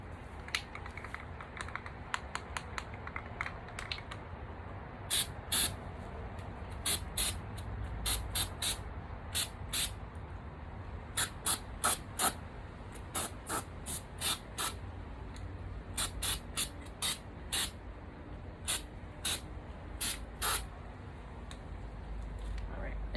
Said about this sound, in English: So I'm gonna spray paint this